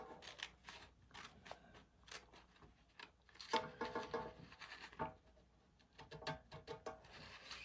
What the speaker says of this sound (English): So I'm gonna cut this with the scissors.